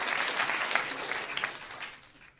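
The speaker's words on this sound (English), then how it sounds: "as we give a round of applause" A short round of applause, fairly soft and dense at the start, then thinning and fading away toward the end.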